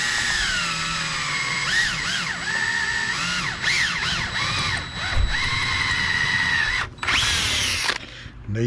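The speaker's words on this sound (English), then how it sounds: "So what I'm gonna do is just drill holes here." A power drill bores holes into the plastic near the lower control arm of an Arrma Felony RC car, with repeated whining bursts that rise and fall in pitch as the bit bites, close and loud, with no talking.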